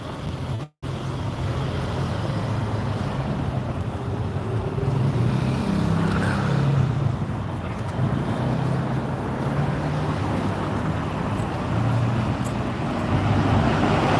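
Traffic rumbles steadily along cold London streets, a continuous low drone of passing cars and bikes heard outdoors, with a brief cut near the start.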